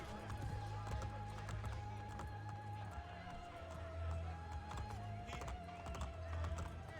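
Rhythmic horse hoofbeats clip-clop steadily under a layered soundscape from the video game Assassin's Creed Brotherhood, with a sustained tone and low rumble throughout.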